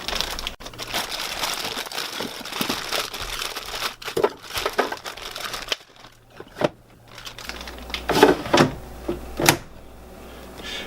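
Frozen potato wedges rattle and crinkle as they are poured from a plastic bag into a dual-basket air fryer basket, bursts of rustling and clattering hits, close and fairly loud.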